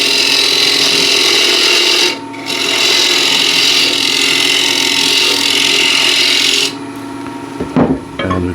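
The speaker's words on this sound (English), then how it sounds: "It's quickly done with a square end scraper." A square end scraper deepens a wooden backing plate spinning on a lathe, giving a loud, steady rasping scrape. The scraping breaks off briefly, resumes for several seconds, then stops, leaving a few faint knocks.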